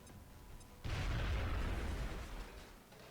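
Grenade explosion in XCOM Enemy Unknown, a sudden deep boom with a rumbling burst that fades over about two seconds, heard alone.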